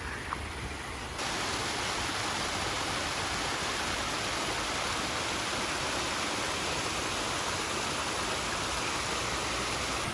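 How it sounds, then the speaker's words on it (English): A small waterfall along a walking path gives a steady, close rush of falling water that holds evenly from about one second on. "So we have a waterfall over here."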